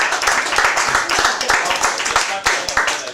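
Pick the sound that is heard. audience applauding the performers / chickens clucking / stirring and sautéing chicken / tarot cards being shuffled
audience applauding the performers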